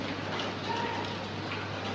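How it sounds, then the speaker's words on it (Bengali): Morning rain falls steadily beyond a balcony, a soft even hiss of drops with a faint low hum underneath and no other sounds standing out. "সকাল দিয়ে বেশ বৃষ্টি শুরু হয়েছে"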